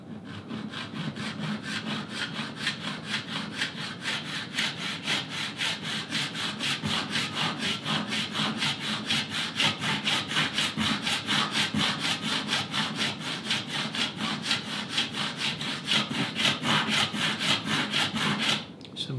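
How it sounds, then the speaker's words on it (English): A handsaw cuts through wood clamped in a vise, with steady, evenly spaced rasping strokes close up that continue for nearly twenty seconds without speech. "And I'll just cut that in the vise now."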